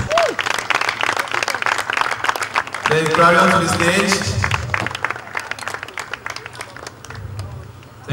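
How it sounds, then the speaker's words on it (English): Audience applause welcomes a singer onto a stage at a live show, with broadband clapping swelling loudly around the middle and tapering off, while an announcer's voice and music are heard over and around it. "A round of applause, please."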